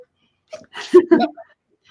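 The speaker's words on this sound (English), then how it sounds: "I have to sneeze." A short, close sneeze with a quick inhaled buildup, a burst, and a trailing breathy sound, in an otherwise quiet room.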